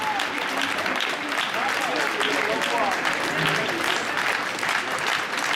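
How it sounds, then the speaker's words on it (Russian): Dense audience applause in a concert hall at a Moscow Kremlin dance show, steady and continuous with some voices mixed in. "Я думаю, что ваши аплодисменты могли быть гораздо более громкими."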